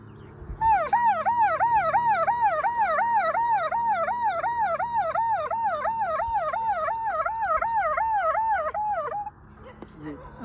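A voice mimics an ambulance siren, a rapid wailing rise-and-fall warble repeated steadily for about nine seconds, loud and close, then cutting off abruptly.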